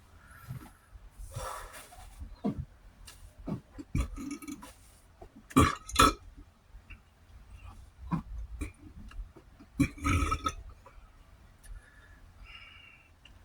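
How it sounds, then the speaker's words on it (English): Several short, muffled burps and snorts come close up, scattered among quiet pauses and soft breathing. "The burps are stifled."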